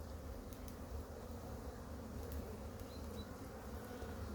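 A dense, steady buzz of many honeybees in an open hive fills the air up close, with no voices.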